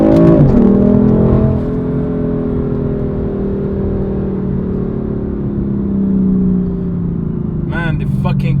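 A BMW M4 engine in Sports Plus mode, revving hard at the start and then holding a loud, steady drone that slowly falls and rises before a short vocal burst near the end.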